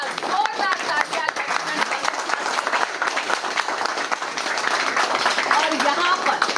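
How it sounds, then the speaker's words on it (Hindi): Sustained applause from a crowd at a Delhi Cantonment political gathering, dense steady clapping filling the whole stretch at moderate loudness with no pauses. "तो जोरदार तालियां"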